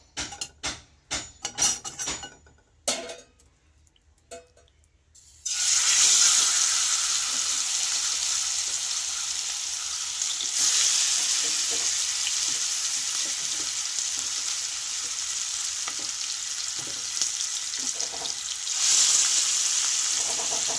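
Chicken pieces hit hot ghee after a few seconds of clattering handling, then a loud, steady frying sizzle fills the rest, swelling briefly as more meat is added.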